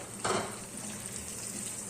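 Garlic and tempering spices sizzle in hot oil for drumstick sambar, a soft, steady frying hiss with a brief louder burst early on as ingredients hit the pan.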